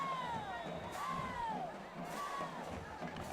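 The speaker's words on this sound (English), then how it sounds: "See, those University Trojan fans still cheering them on." University High Trojans fans cheer a high school football game from the stands under the lights, a moderately distant crowd roar with rising whoops and shouts that swell and fade.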